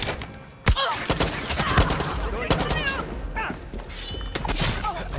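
Gunfire in the video game Far Cry 6, with sharp shots and thumps scattered among a busy, dense mix of in-game effects and voices, close and loud.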